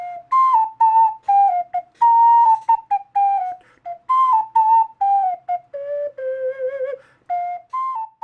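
A 3D-printed 12-hole ocarina plays a clear, pure-toned melody up close, with short breathy notes and phrases separated by brief gaps, and no voices over it.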